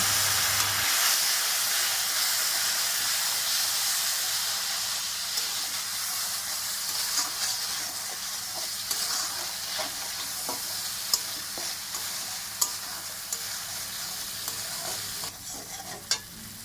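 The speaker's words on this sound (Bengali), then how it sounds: "একটু জল দিয়ে মশলাটা ভালো করে কষিয়ে নেব" Spice paste sautéing with a splash of water in a pan for an elephant-foot yam curry with koi fish, a steady loud sizzle with scattered scraping stirs and clicks, no voices.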